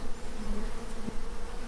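Honeybees hum in a steady, dense buzz, many insects droning together at close range with no voices, a low continuous whir that holds throughout.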